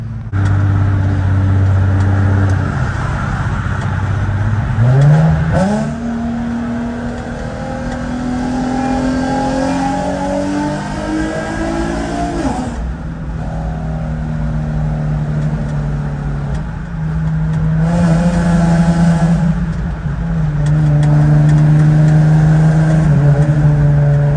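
A tuned Infiniti G37 accelerates hard through several gears, each loud engine rev climbing in pitch before a shift drops it back down, heard steadily from inside the car.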